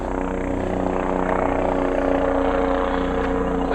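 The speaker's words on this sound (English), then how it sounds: "A helicopter." A helicopter flies overhead with a loud, steady rotor thrum and a whining engine, holding close and constant throughout, with no talking.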